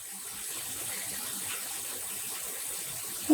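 A tap running cold water into a small container used for rinsing yarn during home yarn dyeing, a steady soft stream that stays even and quiet throughout, then ends in a brief louder knock.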